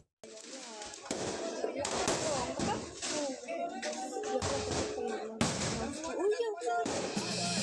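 Firecrackers bursting during a street clash between residents of two neighbourhoods in Tallo, Makassar, a series of sharp bangs and thuds among shouting and crowd noise.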